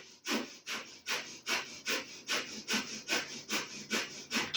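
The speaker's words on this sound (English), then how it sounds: "begin, breath of fire" Rapid yoga breath of fire: a steady train of about a dozen forceful, evenly spaced nasal exhalations, close and loud, with no talking.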